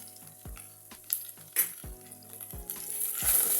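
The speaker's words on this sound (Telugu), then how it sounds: "ఇవి బాగా ఫ్రై చేద్దాం" Chicken pieces with turmeric, garam masala, chicken masala and pepper frying in a pan before liver is added, a loud close sizzle with rhythmic scraping stirs and occasional clanks, without talk.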